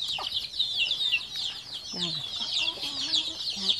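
Young hens cluck at their nest, soft low clucks and short calls rising from close by, with a constant high chirping of small birds or chicks above them.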